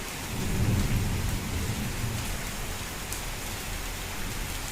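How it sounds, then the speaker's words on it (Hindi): Steady heavy rain pours down with deep rumbles of thunder rolling underneath, loudest early on, no voices present. "बिजली कड़कने की आवाज़ सुनी"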